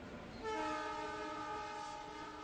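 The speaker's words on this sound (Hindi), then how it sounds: "हरी झंडी हिलाती हुई मालगाड़ी चली गई।" A freight train pulls away from a remote railway station, its horn sounding one sustained blast over a rolling rumble, moderately distant and steady, with no voices.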